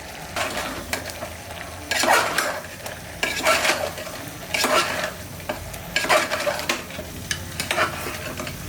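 Coriander and cumin powder stirred and sautéing in a hot pan for mutton bone curry, with repeated scraping strokes over a steady sizzle, close and fairly loud.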